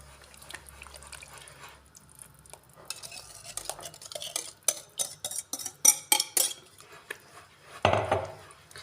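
Semolina for chamia kalb el louz being mixed by hand with sugar syrup and oil: scraping and stirring, then a run of sharp rhythmic clinks and taps, ending in a louder rough rush, with no talking.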